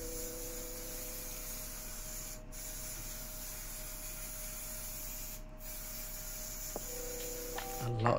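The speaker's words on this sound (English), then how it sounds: "Spray some glue in there." A steady, continuous hiss of spray glue from an aerosol can held for several seconds, fairly quiet, ending with a few small handling noises, while making a guitar case.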